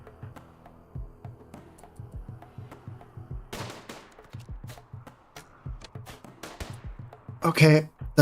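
Colonists firing weapons in the video game RimWorld, a string of light, regular shots at moderate distance under steady talking, with a sharper burst near the end.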